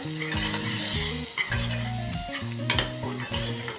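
Masala being stirred into a mackerel curry in a pan, with the spoon scraping and knocking rhythmically against the pan over a soft sizzle, close and alone.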